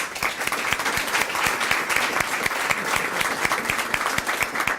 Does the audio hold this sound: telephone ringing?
no